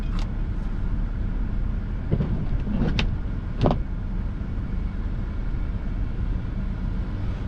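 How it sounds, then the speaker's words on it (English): A car approaching on a snowy road in Minocqua, Wisconsin, heard from inside a snowplow, faint and distant beneath a steady low engine rumble, with a few brief swishing rises midway. "Alright, we got a car coming."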